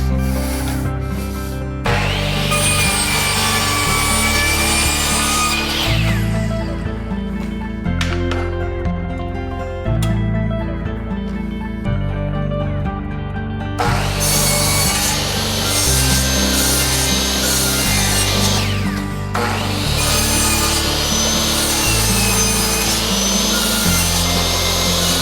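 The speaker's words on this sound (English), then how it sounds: "We'll go cut all 4 pieces of trim and come back and install it." A saw cuts wooden trim casing pieces during a basement renovation, with long steady rasping strokes that stop briefly in the middle, then resume, loud and close with no talk.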